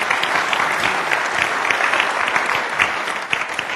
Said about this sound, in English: Feel free to applaud to that.